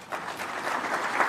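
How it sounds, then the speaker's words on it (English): Applause from an audience at a formal ceremony honouring counties in Kenya, a brief steady patter of clapping held at moderate level without voices. "A round of applause for the Prime Cabinet Secretary."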